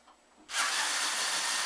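A power drill or screwdriver starts with a sudden steady whir, close and loud, as screws come out of an older Gateway PC case after a quiet moment.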